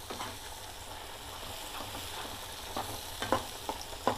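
Moong dal curry mixture fries steadily in a pan, giving a continuous close hiss and sizzle broken by a few sharp scrapes and clicks of a stirring spoon toward the end.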